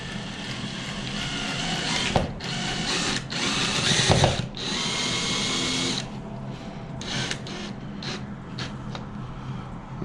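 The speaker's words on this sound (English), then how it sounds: "you take a drill, take this guy, put it through here, get your drill in" A power drill driving a screw whirs in sustained bursts, revving and pausing, with a brief louder grinding stretch in the middle, close up.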